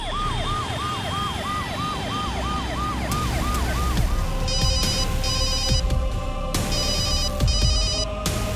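A wailing emergency siren cycles repeatedly in the background, then a phone rings unanswered in repeated electronic bursts, loud and near over the continuing siren.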